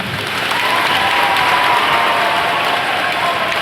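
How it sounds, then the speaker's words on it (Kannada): Sustained applause from an audience at a temple celebration, clapping for the children, dense and steady throughout with crowd murmur blended in. "ಫಸ್ಟ್ ಎಲ್ಲ ಮಕ್ಕಳಿಗೆ ಒಂದು ದೊಡ್ಡ ಚಪ್ಪಾಳೆ ಅಂತ"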